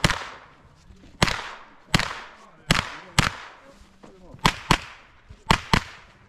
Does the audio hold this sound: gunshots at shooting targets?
yes